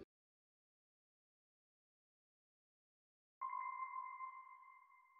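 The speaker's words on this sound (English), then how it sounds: "this like bell sort of sounding sound from Labs, and I just put an EQ on it to like duck out the lows and the highs" A single bell-like synth hit from Labs, EQ'd to cut lows and highs and washed in delay and reverb, rings out after a long silence as a bright sustained tone that slowly fades.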